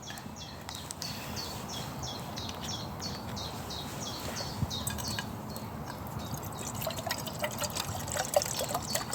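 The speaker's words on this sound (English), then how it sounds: "Now that I've poured my water in my pan" Water poured into a camping pan outdoors in woodland beside a campfire, a steady soft trickle and splash running throughout, with birdsong and faint outdoor ambience behind it.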